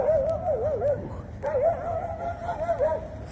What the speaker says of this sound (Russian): Собаки преследуют машины.